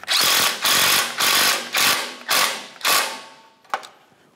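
A hand ratchet wrench tightens the exhaust manifold mounting nut on a 2009-2010 Pontiac Vibe, six loud, close, rhythmic ratcheting bursts followed by a single sharp click.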